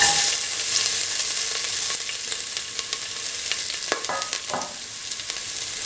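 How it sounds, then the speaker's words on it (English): Onion pieces and shallots frying in a pan give a steady, close sizzle with a few sharp scraping stir sounds partway through, and no voices. "Now put in the onion pieces"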